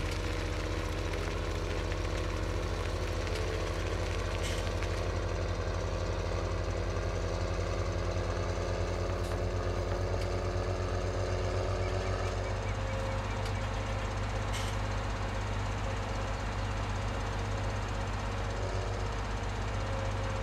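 A tractor engine in Farming Simulator 17 drones steadily throughout, a loud continuous mechanical hum that shifts slightly in pitch partway through.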